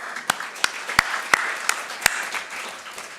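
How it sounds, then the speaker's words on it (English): Sparse, light applause from a small conference audience at an OECD education event, a handful of sharp, distinct claps spaced over a few seconds above a soft room murmur. "I think we can give all the participants a round of applause as well."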